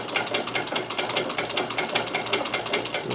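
A sewing machine stitching a buttonhole while a removable collar and French cuffs are made, a fast, even mechanical chatter of needle strokes running steadily throughout.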